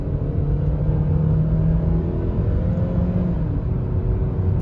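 A 2020 Hyundai Tucson in sport mode accelerates and downshifts, its engine a loud, steady rumble from inside the cabin with a slowly shifting engine tone and no talking.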